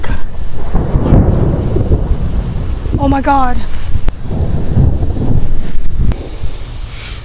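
Thunder rolls during a lightning storm: deep, loud rumbling that swells and lingers across the whole stretch, mixed with wind and rain noise. A person talks and exclaims over it.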